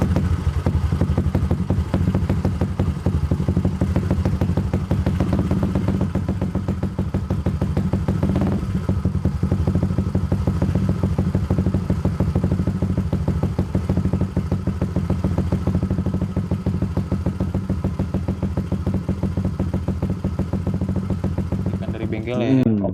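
A Yamaha Aerox 155 scooter from 2018, built with an MX-King engine, runs steadily for the whole stretch with a loud, continuous mid-pitched drone and no clear revving, and a short rattle comes right at the end.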